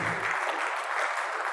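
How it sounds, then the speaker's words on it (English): Church congregation at a New Year's service clapping hands together, a steady, full wash of applause filling the room, fairly loud and sustained. "Clap your hands today, amen."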